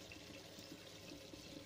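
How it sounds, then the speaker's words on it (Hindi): Chicken yakhni stock is poured into a pot of fried masala and yogurt, giving a steady, soft liquid splashing and gurgling that runs continuously at a low level. "तो अब मैं इसमें यखनी शामिल कर रही हूँ।"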